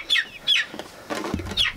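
A chicken near a newly sheathed solar kiln lets out several sharp, high clucks in an uneven rhythm, close and clear, with quieter rustling between calls and no talking.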